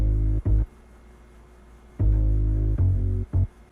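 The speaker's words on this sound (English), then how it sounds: "And then I put in an upright bass." Low, rounded upright bass notes play alone, a few plucked tones separated by a long gap of near silence.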